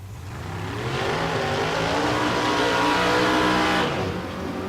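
Drag racing cars, a Camaro and a Chevy II, launch at a Texas Motorplex bracket race, engines roaring loud and rising in pitch as they accelerate away, the roar holding steady for several seconds.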